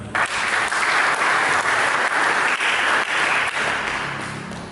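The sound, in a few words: congregation applause during a sermon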